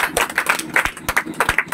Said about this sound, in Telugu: గట్టిగా చప్పట్లు కొడతారు ఒకసారి.